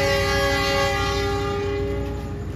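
A loud, sustained locomotive horn blares close by at Kroya station, Indonesia, in one long steady tone, with faint rumbling beneath.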